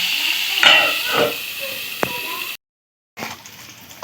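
Potatoes frying in a covered pan, a steady close hiss and sizzle with a few stirring scrapes, cut off by a brief silence before the frying resumes.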